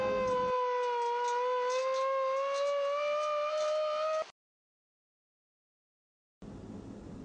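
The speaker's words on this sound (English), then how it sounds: "A siren issued the early warning signal and people responded." A civil defense siren sounds an early warning signal for a community evacuation drill, a loud steady wailing tone that slowly rises and then stops abruptly. A short silence follows before another burst of noise starts.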